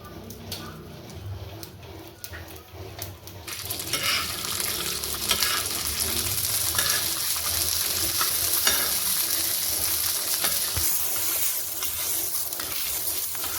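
Potato and pea paratha filling roasting in a pan: a quieter opening, then from a few seconds in a loud, continuous sizzle with frequent scraping stir strokes close by.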